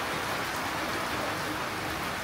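Heavy rain pours down steadily in El Nido, Palawan, during a storm, a dense continuous hiss that fills the whole clip with no pauses.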